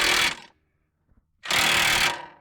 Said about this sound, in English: I'm going to start tightening with the impact wrench